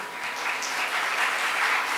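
An audience at an International Women's Day celebration claps steadily, a dense, even burst of applause lasting a couple of seconds, moderately loud with no talking over it.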